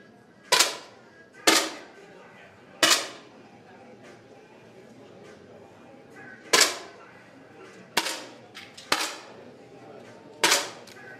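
Sharp, close rifle shots ring out one at a time during a youth rifle championship match, with about eight crisp reports at irregular intervals and a faint voice in the background.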